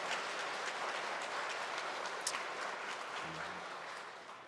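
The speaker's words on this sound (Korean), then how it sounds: "여러분 다시 한번 박수 한번 해보세요" A church congregation claps for newly installed women's mission society officers during a Sunday service, a broad, steady wash of applause heard from a distance, fairly faint throughout.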